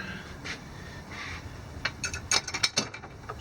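A ratcheting socket wrench with a 1/2-inch socket tightening stainless steel bolts on a cold air intake of a 2018 Ford F250 6.7, a close series of quick clicking bursts that quicken toward the end.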